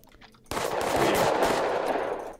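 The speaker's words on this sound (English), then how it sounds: "He tried to shoot me." Rapid automatic gunfire bursts out in the video game Totally Accurate Battle Zombielator, a dense loud fusillade starting abruptly and sustained for about two seconds before trailing off.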